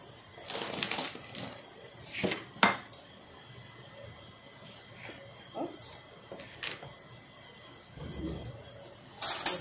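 A plate and cutlery clink and clatter in scattered, close knocks in a home kitchen, with quiet gaps between them and a louder rattle at the end.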